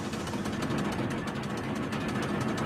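A rock-collecting quarry machine at work, giving a steady, loud mechanical rumble with a faint rhythmic thumping throughout, close by and without pauses.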